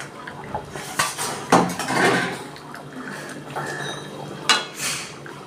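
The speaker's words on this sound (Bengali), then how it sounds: "আমি ঢাকনাটা খুলে দেখছি" A metal lid lifted off a pot of raw mango chicken curry, with several clanks and scrapes of metal and a soft bubbling simmer beneath.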